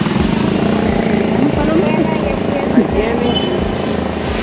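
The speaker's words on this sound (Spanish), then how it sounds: "¿Cómo aterrizamos el del dron? Ahí viene." A drone coming in to land during a Good Friday procession in Santa Ana, its steady propeller whine and buzz droning continuously close by beneath people talking.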